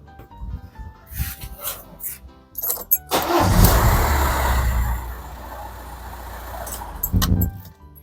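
An Audi A4 B7 with a unit injector fault cranks after some clanks and handling noises, then catches and settles into a steady idle, loud and close, with a few bumps near the end.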